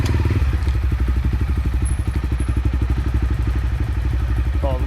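Motorcycles ride an off-road dirt trail near Chiang Mai, Thailand, their engines producing a loud, close, throbbing pulse with steady rapid firing and some clatter, running continuously throughout.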